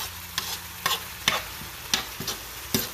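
Eggs fry in a pan while a utensil stirs them in a steady rhythm of about six scraping strokes over a continuous sizzle, heard up close.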